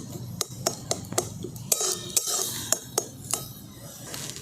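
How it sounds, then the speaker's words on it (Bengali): A spoon stirs grated carrot in a pan, giving repeated scraping clicks and taps against the metal at a steady, close rhythm. "গাজরটাকে একটু নাড়াচাড়া করে নিয়ে দিচ্ছি।"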